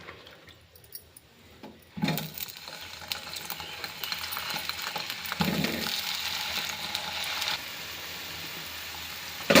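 Brinjal pieces dropped into hot oil in a pan for chutney, a sharp sizzle bursting in and then a steady crackling fry that holds for several seconds before easing slightly, close and alone.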